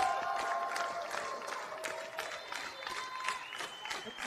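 A wrestling arena crowd claps and cheers at ringside during a match, sustained applause with scattered shouts filling the hall, with a commentator's voice running faintly over it.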